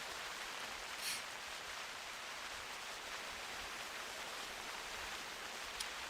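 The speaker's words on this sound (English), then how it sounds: "That rain is so loud." Steady, loud rain hisses continuously in theHunter Classic, a dense, even wash of falling drops with no other sounds.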